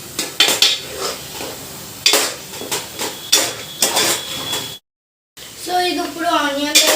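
Spicy prawn and okra curry base with onions being stirred in a pan, repeated scraping clatter of a spoon against metal with a short gap of silence, a voice talking over the cooking.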